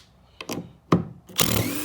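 A Makita impact driver busting a nut loose: short hammering bursts that build to a loud, sustained rattling impact, close and alone.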